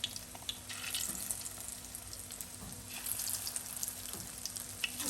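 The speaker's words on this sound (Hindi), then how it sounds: "इस तरह हम पूरी चिकन जो है वो फ्राई करेंगे" Marinated chicken pieces deep frying in hot oil for chilli chicken, a steady close crackling sizzle with brief bubbling bursts throughout and no talking.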